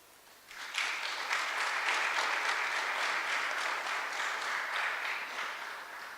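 A community centre audience applauds at a curbside recycling program meeting, steady clapping that starts abruptly after half a second and holds evenly at moderate distance for the rest of the clip.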